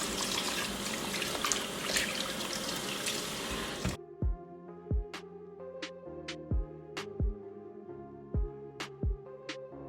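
Turkey neck rinsed under a running kitchen tap for a Jamaican brown stew: a rushing, hissing stream of water for about four seconds, then it stops, leaving a series of separate drips and splashes into the sink.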